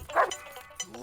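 A dog barks twice, short and fairly close, with a quiet pause between the two barks and no talking.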